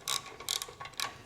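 A hand ratchet clicks in three quick bursts while tightening the rear swingarm pivot nut on a Honda TRX/CRF hybrid motorcycle, close and crisp with no talk.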